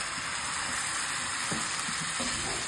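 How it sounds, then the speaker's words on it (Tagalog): Shrimp sizzle in melted butter in a hot pan, a steady, close, hissing fry with a few soft stirring bumps and no voices over it. "Once na melted na yung butter, yung hipon, balik na natin."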